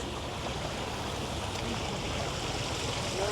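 Continuous splashing water from a fire fountain outside Parliament in Ottawa, a steady even wash heard at moderate distance with no speech.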